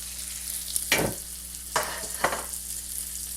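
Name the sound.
hamburger patty frying in hot pan with olive oil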